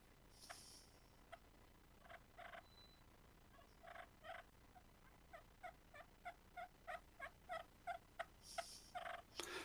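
Soft turkey tree calls on a pot call, made for clucks, purrs and soft calls: quiet, muffled clucking yelps in a slow series, growing steadier and more regular toward the end.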